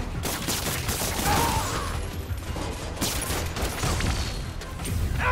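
Gunfire in Marvel's Spider-Man: Miles Morales, a dense fusillade of rapid shots and mechanical clatter running continuously, mixed with game effects and impacts.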